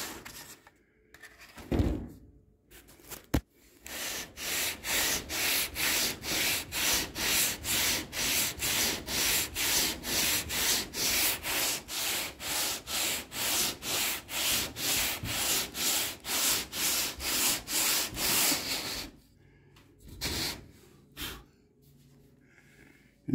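Sanding primer and paint on the bodywork of a square-body Chevy truck: about thirty steady, rhythmic back-and-forth rasping strokes, close and even, with brief pauses and faint breathing before and after.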